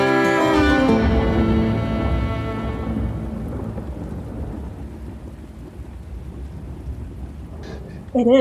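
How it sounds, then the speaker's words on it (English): A real thunderstorm recorded in Nashville: a loud rolling thunderclap fades over several seconds into steady rain, with a brief sharp crack of sound right at the end. "I think it's a real thunderstorm that was recorded in Nashville that they had."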